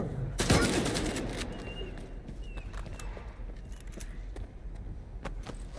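Gunfire in S.T.A.L.K.E.R. 2 opens with a loud burst near the start, followed by a dense rattle of scattered shots and battle noise continuing at a lower level throughout.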